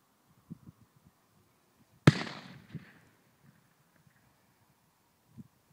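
A single sharp gunshot cracks near a fishing lake at Drayton leisure fishery, a sudden loud bang with a short decaying tail, set against quiet outdoor ambience with faint rustles.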